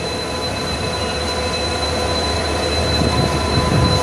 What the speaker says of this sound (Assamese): ইয়াৰ ট্ৰেইনৰ ইঞ্জিনৰ পুৰা সাউণ্ড আহি আছে